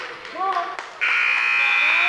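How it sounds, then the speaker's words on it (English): A buzzer sounds at the end of a high school varsity wrestling match, a loud, sustained electronic drone that fills the second half. Crowd noise and an announcer's voice come before it. "And there's the buzzer as Alexander Hart is victorious over Andy De"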